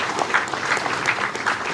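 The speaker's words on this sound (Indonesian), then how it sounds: "Beri tepuk tangan untuk." Audience applause at a night thanksgiving celebration of Indonesia's 77th Independence Day in East Sumba, welcoming a newly elected church synod chairman; steady, dense clapping fills the short stretch at moderate volume, without voices over it.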